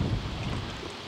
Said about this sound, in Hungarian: Ahogy üti a szél.